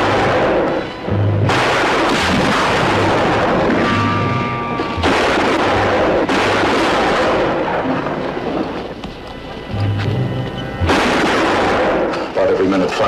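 Gunfire rings out in a western film, heavy repeated shots and booms layered with dense dramatic background sound and music, continuous and loud throughout.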